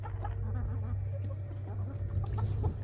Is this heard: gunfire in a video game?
no